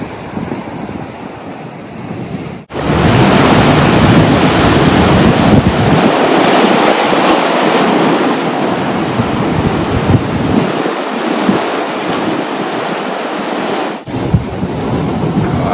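Ocean surf rolling onto the sandy beach at Land's End, San Francisco, a steady loud wash of breaking waves with heavy wind buffeting the microphone, no voices.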